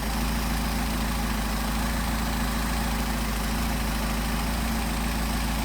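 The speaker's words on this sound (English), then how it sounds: "Check our idle, back about 700." Engine with Solex 44PHH carburetors idling at about 700 rpm, a steady, loud, close drone with an even low throb and no voices.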